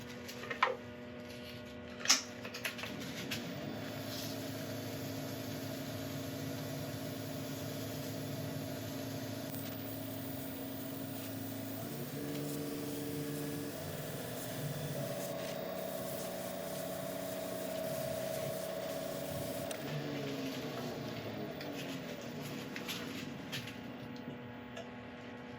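A wood lathe spins a yew workpiece with a steady, even motor hum and tonal whine that shifts pitch midway as a shellac and linseed oil finish is rubbed on, a few faint clicks at the start.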